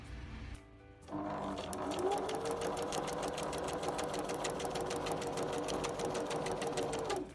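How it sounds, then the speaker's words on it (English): A sewing machine stitches ribbon up and down across a grid for handmade lace, starting after a short pause, then running steadily with a rapid, even stitching rhythm, close and clear with no talk. "I'm going to take my ribbon and sew it up and down like this across my grid"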